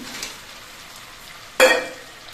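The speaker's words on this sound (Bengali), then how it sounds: "এবার এর মধ্যে আমি ভিজে রাখা আলুগুলো দিয়ে দিচ্ছি" Soaked potatoes are tipped into a pan of frying mutton curry with melted-down onions, giving a short burst of sizzle after a low steady frying hiss, alone and close.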